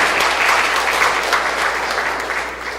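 Warm audience applause at a CEO forum thanks a company representative, with a steady, dense wash of clapping at close-to-moderate distance that gradually fades over a few seconds.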